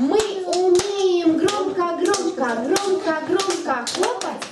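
Young children in a classroom clap their hands loudly in rhythmic bursts while singing along with a teacher, voices continuous over the sharp, close claps.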